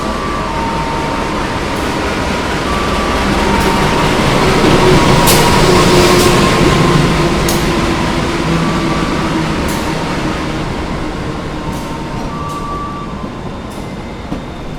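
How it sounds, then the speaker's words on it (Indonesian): The Blambangan Express, an Indonesian passenger train between Ketapang and Semarang, rolls past on the railway with a loud, sustained rumble and wheel noise that peaks in the middle, along with faint clacks and brief squeals. "Kereta api Blambangan Express Ketapang Semarang, satu-satunya kereta api yang menghubungkan Banyuwangi dengan Semarang."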